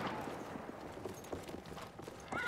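Hoofbeats of a horse in the video game Battlefield 1, a quick run of soft, fairly faint clip-clop thuds against a muted background of game ambience.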